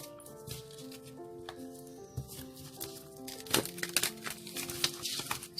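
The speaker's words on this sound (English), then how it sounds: "One more shuffle." Tarot cards are shuffled by hand with soft riffling and patter, growing busier toward the end, over gentle background music.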